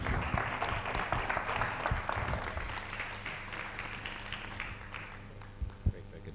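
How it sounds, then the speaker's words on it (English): An audience at a food-themed panel event applauds the panelists, a moderately distant wash of many hands clapping that fades toward the end, leaving a few scattered claps and room hum. "please join me in giving a big hand of applause to our distinguished panelists"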